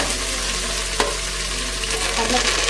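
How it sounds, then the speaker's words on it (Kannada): Onion, curry leaves and green chillies frying in hot oil in a pan, a loud steady sizzle and crackle with a brief stir clink, close and continuous with no talk. "ಈರುಳ್ಳಿ, ಕರ್ಬೇವಿನ ಸೊಪ್ಪು, ಮೆಣಸಿನ್ಕಾಯಿ 3 ಒಟ್ಟಿಗೆ ಹಾಕ್ತಿದ್ದೀನಿ."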